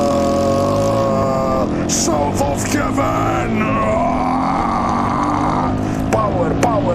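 Small engine of a Honda Z50J Gorilla mini bike running up close and steadily, its buzzing drone continuous throughout, with a voice speaking over it.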